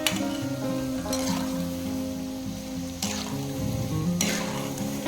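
Moong and masoor dal pakoras half-frying in hot oil produce a steady, close crackling sizzle that runs throughout, with a few soft stirring bumps and no talking.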